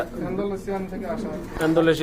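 A pair of exhibition pigeons, one black, coo in close, throaty rolling phrases that repeat. Someone talks nearby through much of it.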